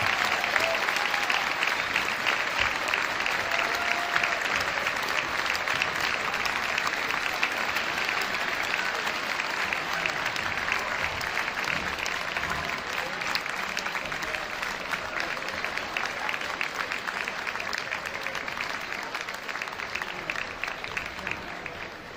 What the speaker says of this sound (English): please join me in a round of applause and support of Mrs. Wilson and our friends from Bishop DuBourg High School